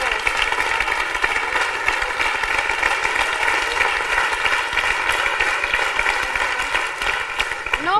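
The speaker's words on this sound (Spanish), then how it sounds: "Un aplauso para los tres" A studio audience on a Spanish TV talk show applauds three guests, a dense, loud, steady clapping that fills the whole stretch with tonal sound running underneath.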